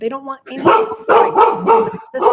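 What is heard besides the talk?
dogs barking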